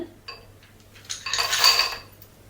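A spoon stirs nuts into 50 grams of melted dark chocolate in a bowl, giving a short burst of scraping and light clinking that swells midway, then fades.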